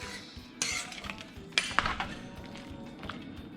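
A spoon stirs red beans and rice in a pot, bringing a few metallic clinks and scrapes against the side over a quiet simmering background.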